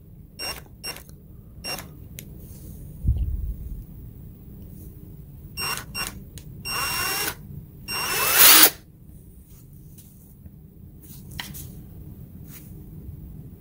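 An Avid Power 20V Max cordless brushed-motor impact wrench with a hog ring anvil runs in several short bursts of whirring and rattling, separated by quiet gaps and handling clicks.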